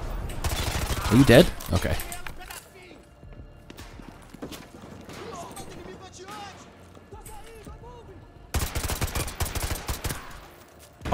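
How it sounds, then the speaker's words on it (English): Gunfire in Modern Warfare 2 Remastered, sharp bursts of shots crackling under a man's speech, with a loud final volley near the end. "I like the gun sounds in this game though."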